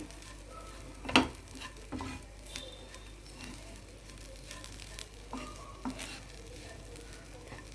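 Okra frying in a pan gives a low steady sizzle, broken by a few sharp scrapes and clinks as it gets stirred, quiet and with no one talking.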